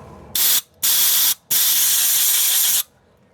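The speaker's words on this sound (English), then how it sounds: "I'm just going to spray it one more time inside with the air so that we can get that clean" Compressed air blasting into a bolt hole on an Opel Corsa: two short loud hissing bursts, then a longer sustained blast of about a second and a half, close and alone.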